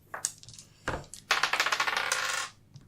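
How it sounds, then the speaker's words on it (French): Dice tumble across a table during a tabletop role-playing game: a couple of quick clicks, then a rapid rattling clatter of bouncing hits that settles after a second, close and fairly quiet. "Donc, je lance des dés."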